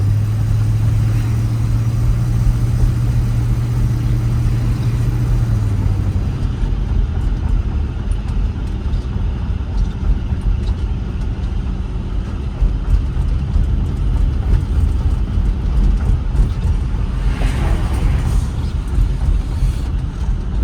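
A 1955 Packard Clipper Super Panama drives at low speed, its engine a steady loud rumble heard from inside the car, with road noise and a brief hum early on.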